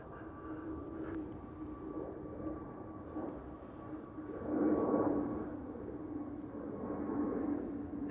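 A Pegasus Air Airbus A321neo departs Amsterdam Schiphol, its engines a faint, distant low rumble that swells briefly midway and then settles into a steady drone.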